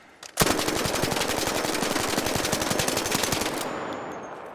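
Full-auto gunfire from a rifle fitted with a compensator or muzzle brake: one long, loud, rapid burst of evenly spaced shots lasting several seconds, then a ringing fade.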